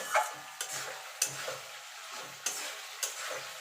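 Shankar fish curry with potatoes is stir-fried in a pan, a soft sizzle punctuated by about six distinct scraping stirs at an unhurried, regular pace.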